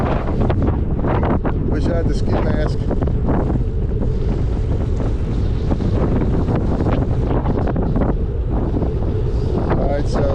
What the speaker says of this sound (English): Oh, that's some windy stuff.